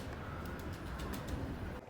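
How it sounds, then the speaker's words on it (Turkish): Pigeons on a rooftop make a low, continuous cooing murmur with faint scattered calls and wing flutters, a steady ambient layer close by for about two seconds with no speech. "Şöyle oturuyorum, güvercinleri falan izliyorum."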